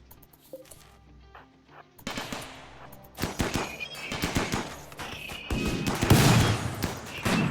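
Automatic turrets fire in RimWorld, rapid bursts of gunfire that start sparse and build into dense overlapping volleys, loud and close, with animal whinnies and game effects mixed in.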